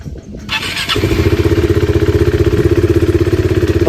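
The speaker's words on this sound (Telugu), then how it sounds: "ఒకటే స్టార్ట్ అవుతుంది నా బండి." A KTM motorcycle engine cranks and catches on the first try, then settles into a loud, steady, rapidly pulsing idle that runs close by to the end.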